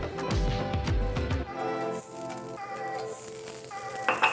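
Chopped onion hits a hot pan beside cooking salmon, bursting into loud crackling sizzle with stirring clatter, then settling into a softer steady fry punctuated by utensil taps.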